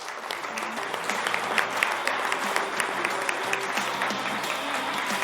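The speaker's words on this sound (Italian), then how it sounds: "Facciamo un applauso ai genitori." An audience applauds the parents at an evening gathering, a dense, steady wash of clapping that holds at an even level, with faint music underneath.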